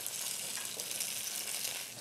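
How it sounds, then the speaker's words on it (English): Garlic and ginger sizzle in hot oil in a pan, a soft, steady hiss with faint crackle, heard close but quiet and with no voices. "when we add the garlic and ginger, it's going to be able to sizzle and get cooked well and infused in that oil"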